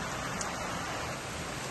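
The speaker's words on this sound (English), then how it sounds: "Now, this rain" Steady, dense hiss of rain pouring outdoors over vetiver bamboo grass, close and unbroken for the short stretch with no voices.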